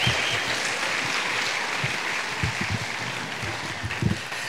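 Audience applause for performers at the 2018 Iowa Democratic Wing Ding, a steady wash of clapping in a large room with some louder close claps standing out, moderately loud throughout.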